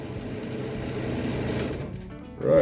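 Scroll saw cutting wood for a wooden toy truck, a steady buzzing drone that holds level for about two seconds, then stops abruptly before a short burst of other sound.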